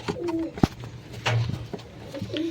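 Pigeons in a home loft coo in low, soft repeated phrases close by, with a few light clicks and rustles between calls.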